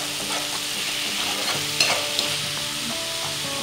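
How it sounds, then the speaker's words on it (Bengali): Onion, ginger and garlic paste sizzles steadily in hot oil for a rohu fish kalia while being stirred, with a few louder scrapes of the spoon against the pan rising above the constant fry. "পেষ্টখিনি দি এতিয়া মই ভাল ধরনের গোটেখিনি মিলাই পেলায় ভাজি লম"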